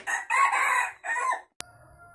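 A caged Sumatran red junglefowl crows clearly in a long, strained call split into a few segments, followed by a sharp click and faint background hum.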